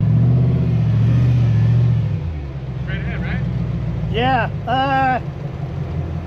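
An off-road rig on 40-inch tires grinds over a trail obstacle, its engine rumbling loud and steady up close, briefly easing before a voice cuts in with a short remark.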